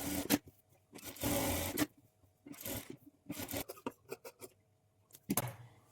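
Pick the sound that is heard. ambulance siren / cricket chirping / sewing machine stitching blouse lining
sewing machine stitching blouse lining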